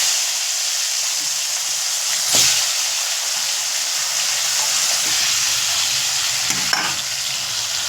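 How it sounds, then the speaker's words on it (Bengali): Dried fish (shutki) fries in hot oil with turmeric in a pan, giving an even, close sizzle and hiss throughout, with two brief louder stirring scrapes standing out from the steady crackle. "বন্ধুরা শুটকি মাছ ভাজা হয়ে গিয়েছে, তুলে নেব।"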